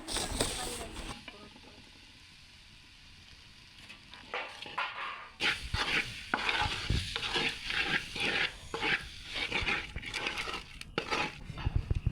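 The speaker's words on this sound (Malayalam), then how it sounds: "എന്നിട്ട് നന്നായിട്ടൊന്ന് മിക്സ് ചെയ്തെടുക്കുക." Spices for a Kerala-style beef roast are stirred in a pan: after a quiet start, rhythmic scraping strokes of a spoon against the pan ring out over a soft sizzle.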